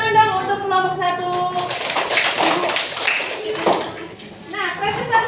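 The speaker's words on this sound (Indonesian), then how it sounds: "Tepuk tangan dong untuk kelompok 1" Students in an Indonesian-language class clap for the first presentation group, a scattered burst of classroom applause that stays under ongoing talk and children's voices throughout.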